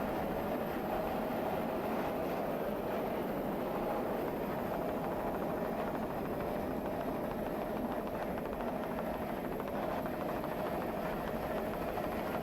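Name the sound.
racing powerboat engines at full throttle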